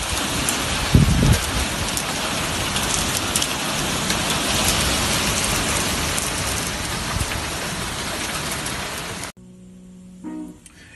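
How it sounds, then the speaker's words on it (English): Dense, heavy hail or hard rain pounding a surface in a constant roar, with a brief louder clatter near the start before it suddenly cuts away. "it's hailing!"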